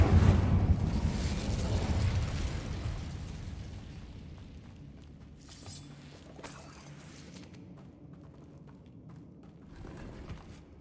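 A fire spell blast in the Hogwarts Legacy video game: a loud, broad burst that rolls and decays over a few seconds, followed by quieter crackling and scattered game sounds.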